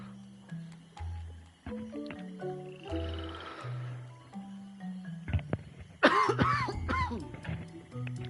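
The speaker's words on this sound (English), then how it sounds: "Sorry if you can hear me coughing." Someone coughs briefly and harshly a few times close to a microphone, over a background of game music with steady tones and melodic notes.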